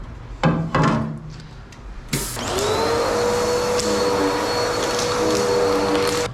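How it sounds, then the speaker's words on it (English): An ultrasonic cleaner starts up on rusty motorcycle swing arm bearing parts from an XR650R, a loud steady electric hum with a high tonal whine that holds for several seconds after a few knocks and clatters. "before I put it in the ultrasonic to clean it up and warm up the metal."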